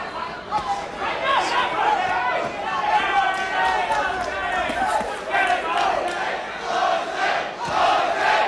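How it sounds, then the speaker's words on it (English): A crowd at the Mike Tyson vs José Ribalta heavyweight boxing match roars and takes up a rhythmic chant, a dense, loud, continuous swell of many voices with no breaks. "Crowd taking up a chant of Jose."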